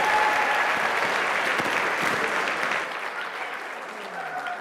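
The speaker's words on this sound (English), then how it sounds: "How about another round of applause for all those videos?" A crowd applauds loudly and steadily, the clapping fading slightly toward the end.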